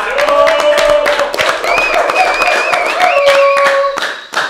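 Scattered hand claps patter throughout, mixed with a bright, wavering melodic tone that sounds like music or whistling, fairly loud and close.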